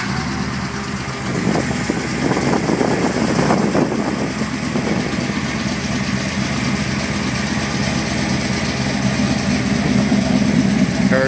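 A 1972 GMC Sprint engine cranks and catches, then settles into a loud, steady, close idle with a rough rumble, while electric cooling fans whir along underneath.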